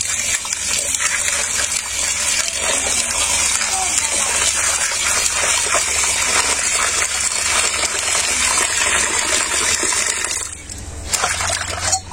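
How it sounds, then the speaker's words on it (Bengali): Cut fish being rinsed under steady running water in a village home, a continuous gushing, splashing wash that holds level for about ten seconds before briefly dipping and resuming. "এখন আমি ধুয়ে নেব মাছটা"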